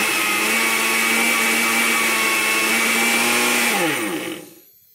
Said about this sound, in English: Now we're going to go to the smoothie setting on this this blender here.